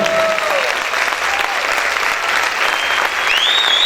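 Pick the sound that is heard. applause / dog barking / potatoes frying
applause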